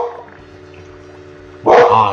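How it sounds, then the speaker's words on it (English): Dogs in the game Nom Nom Galaxy give a short loud burst of barking at the end, after a quiet stretch of steady game music. "Dogs, man."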